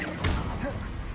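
A disarming spell cast in Hogwarts Legacy snaps out as one quick whooshing smack near the start, a brief crash-like hit followed by fading swish, with no talking.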